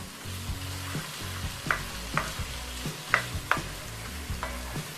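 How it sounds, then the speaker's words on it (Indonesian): Chicken being stirred and pressed with spice paste in a hot frying pan for a banana-blossom stir-fry, a close sizzle broken by repeated scraping and tapping strokes at an uneven rhythm. "Kita agak tekan-tekan biar ini ayamnya tercampur dengan bumbunya"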